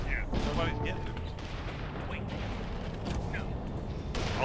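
Mortar fire in the Tribes Ascend shooter game lands as repeated booming blasts and explosions. The blasts rumble under and between voices talking.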